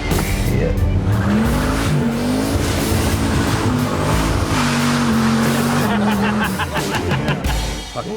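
A 1970 Chevelle and a 1963 Impala run hard down a back road in Florida, loud engines roaring and revving with tire squeal as they pass close by.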